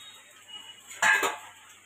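Dried bombil fish drop into oil in a pan with one short clattering burst of metal and utensil noise in the middle, set against a faint steady background hum.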